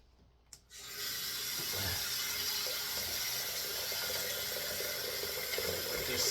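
After a click, a tap turns on and water runs steadily into a sink, a continuous close splashing stream.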